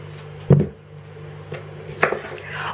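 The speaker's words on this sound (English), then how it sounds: "I'm going to chop it with the skin on because it's easier to remove when it's cooked" A big knife chops through a skin-on pumpkin, with two sharp, distinct blade strikes on the board, the first louder, against a low background hum.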